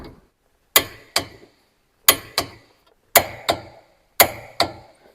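Torque wrench on a 15mm socket tightening Ford Focus lower control arm bolts to 92 foot-pounds: four pairs of crisp, close metallic clicks, each pair a quick double snap followed by a short pause.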